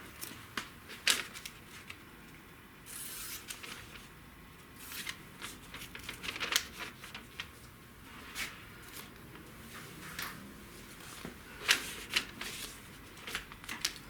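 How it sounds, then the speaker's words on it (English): Masking tape being pulled off the roll and pressed along a car door jamb during paint prep, soft tearing rasps and crinkling handling sounds, quiet and close with no talking. "So I come across here. Tape across there."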